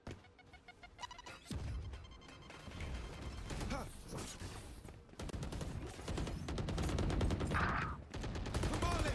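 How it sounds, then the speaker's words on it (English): Gunfire in a competitive Valorant match, bursts of rapid shots and clattering game effects that start abruptly and build to dense, loud volleys across the whole stretch. "Gunfire coming out."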